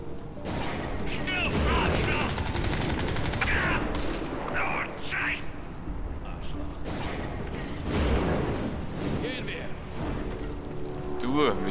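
Allied soldiers firing on enemies in the shooter game Crysis 3: continuous heavy automatic gunfire with mechanical clatter throughout, while someone talks over it.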